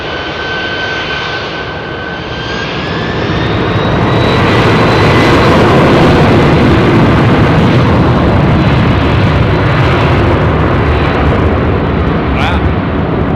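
A CF6-powered jet airliner departing runway 27R at Heathrow builds from a thin whine into a loud, close, sustained thundering roar that dominates throughout, with a brief sharp crackle near the end.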